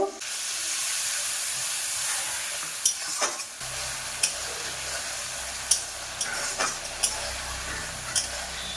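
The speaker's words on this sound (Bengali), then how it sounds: "অল্প করে জল দিয়ে মশলাকে কষে নেব" Spice paste of chili powder and turmeric, cooked down with a splash of water, being stir-fried in a pan: a steady close sizzle with scattered sharp spatula scrapes and clinks, heard alone.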